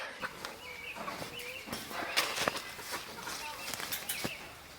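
Chickens clucking inside a coop behind a homemade gate, with scattered short calls and scratchy movement at moderate distance over a steady background.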